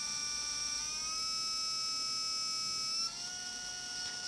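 A brushless motor spins on a SkyRC motor analyser, producing a thin, steady, high-pitched electric whine that shifts pitch partway through, with faint background noise and no talk.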